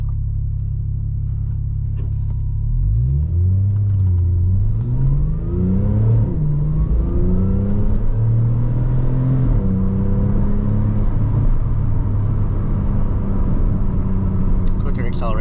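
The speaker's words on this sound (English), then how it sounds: "Quicker acceleration, it is holding that RPM longer as well." A 2010 Porsche 911 Turbo engine revs up steadily from idle, its pitch climbing in rising sweeps and holding high RPM in a loud, continuous close-range rumble.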